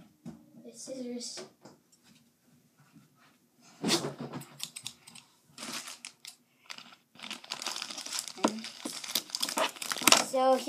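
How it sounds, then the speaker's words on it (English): Toy packaging being cut open with scissors for a Jack Endertoy figure, with crinkling plastic and cardboard and bursts of snipping and rustling close by between pauses, partly alongside a voice talking. "Now I'm going to open it up with some scissors."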